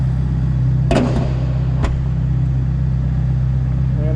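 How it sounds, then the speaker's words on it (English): A 2022 Ferrari Roma in Ferrari red, its exhaust giving a deep, steady rumble close by, with a couple of short sharp clicks or knocks near the start, no talking. "You hear the exhaust coming out."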